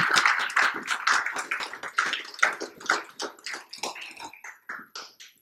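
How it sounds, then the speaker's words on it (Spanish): A little girl clapping at a church service, giving applause: a run of sharp, close, separate claps in a quick uneven rhythm that slows and softens toward the end, with no talk over it. "La nena le quiere dar un aplauso."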